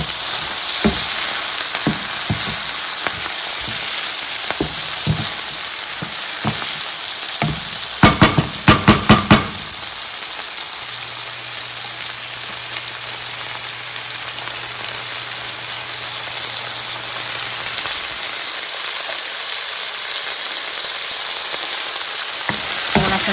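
Chopped onions and tomato frying in a pan, a loud continuous sizzle with clinks and scrapes of a spoon stirring, a short burst of rattling taps midway, then plain sizzling alone.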